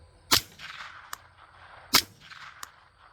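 Suppressed Ruger 10/22 with an integral barrel in a bullpup stock, firing CCI Standard Velocity, Aguila Sub and Aguila Super rounds: two sharp, fairly quiet cracks about 1.6 seconds apart, each followed by a faint mechanical click, with no talking.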